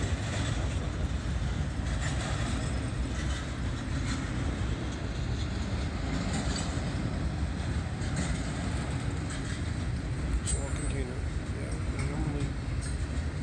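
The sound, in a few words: Norfolk Southern freight train led by GE locomotive at grade crossing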